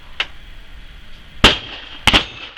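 A Whitworth rifle is fired at a black powder shooting gathering: one faint crack, then two loud, sharp reports about half a second apart, close by and ringing briefly, with no talking.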